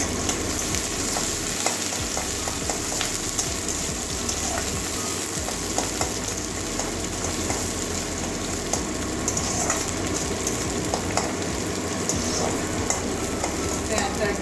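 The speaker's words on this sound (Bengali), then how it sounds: "পেঁয়াজটা একটু ভেজে নেব বাদামি কালার পর্যন্ত" Chopped onion and a halved green chili fry in a pan, giving a steady, dense sizzle with scraping stirs and occasional low bumps that run unbroken for the whole stretch.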